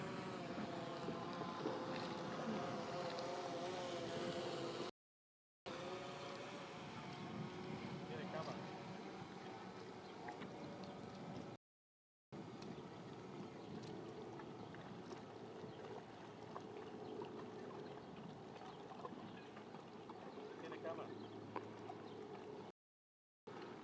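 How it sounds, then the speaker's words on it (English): A boat motors out of the harbor channel at Southport, Connecticut, a steady engine hum and water wash mixed with wind noise, with people talking and brief gaps of silence. "we got a boat exiting the channel here"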